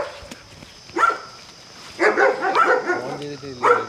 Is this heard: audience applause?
no